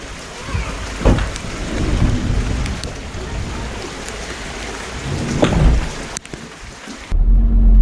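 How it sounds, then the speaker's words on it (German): Rain pouring down steadily outdoors with occasional thunder rumbles and sharp cracks, fairly loud and continuous before cutting to a quieter low hum near the end; no one speaks. "Regen ist auf alle Fälle."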